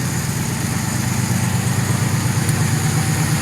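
2006 Pontiac Grand Prix with a freshly welded exhaust idles steadily nearby, its low burble broken by an uneven, stumbling misfire pulse, fairly loud and continuous with no voices.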